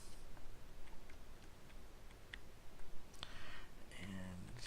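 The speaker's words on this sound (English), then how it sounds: "I'm going to use my keyboard here to do my firing." Computer keyboard keys click in sparse, faint taps while a video game is played with the keyboard alone, the taps half-buried in steady background noise and game sounds.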